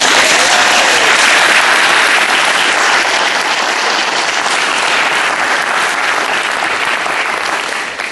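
A large morning audience at a Special Olympics event bursts into sustained, loud applause that holds steady for several seconds before starting to taper at the end.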